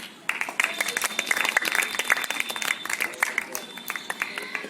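An audience at a school quiz programme claps loudly and steadily after a correct answer, with dense sustained applause and a few voices mixed in.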